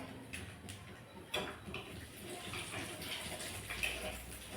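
Cumin seeds sizzle steadily in hot oil as a tempering for a jhinge posto with shrimp, giving a continuous close hiss with small crackles and no voices.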